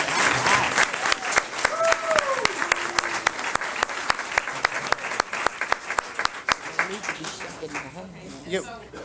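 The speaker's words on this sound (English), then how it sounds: "let's give them one big round of applause." Audience applause at a county board of education meeting, steady clapping lasting several seconds with sharp individual claps standing out, while voices talk over it and a few calls rise near the end.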